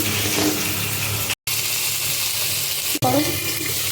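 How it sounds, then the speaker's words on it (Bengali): Pieces of pointed gourd (potol) frying in hot oil in a home kitchen, a loud steady sizzle with a couple of abrupt cuts and brief clatter near the end. "তেলের মধ্যে এবার পটলগুলোকে ভেজে নেব"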